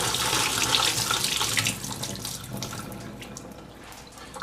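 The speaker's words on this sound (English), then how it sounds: "just strain out calcium lactate." Liquid pouring and splashing through a kitchen strainer as calcium lactate bath is drained off spherified caviar, a steady close rushing wash that gradually thins and quiets over a few seconds.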